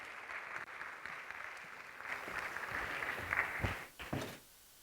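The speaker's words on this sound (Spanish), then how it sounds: "le damos un aplauso" A conference audience gives a welcoming round of applause for a speaker about to present on stablecoins. It is a dense, fairly close patter of many hands that swells slightly toward the end and then cuts off abruptly.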